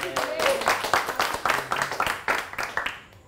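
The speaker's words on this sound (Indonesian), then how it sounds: "Tepuk tangan untuk Beta dong" Audience at a stand-up open mic show clapping in a run of quick, uneven claps over about three seconds, mixed with a voice talking and fading out at the end.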